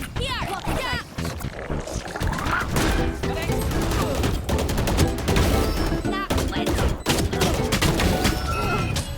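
Rapid gunfire from a video game crackles in dense bursts, loud and nearly continuous, with people talking over it.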